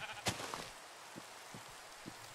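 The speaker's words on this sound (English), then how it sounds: "Sheep, don't run away from me." Sheep in Minecraft bleat faintly, with one brief sharper call followed by a few soft, short bleats spaced apart over a low hiss.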